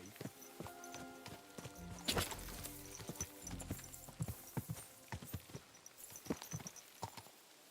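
Horse hooves clip-clop on the ground in Kingdom Come, a steady run of hard, close knocks with uneven spacing, joined by a few louder thumps and a faint whinny in a quiet outdoor setting.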